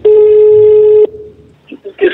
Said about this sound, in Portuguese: Vou ligar para ele aqui